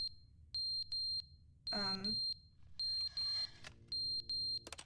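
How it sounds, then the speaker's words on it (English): A smoke alarm in The Sims 3 beeps in repeated shrill pulses, about six bursts in a steady on-off rhythm, loud and close, broken once by a brief tonal game sound and a clattering noise. "The fire alarm went off."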